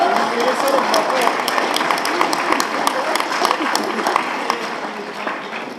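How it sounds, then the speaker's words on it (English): An audience at a school event applauds steadily for a decorated basketball player, with dense clapping throughout and a voice speaking over it. "yes, clap it up."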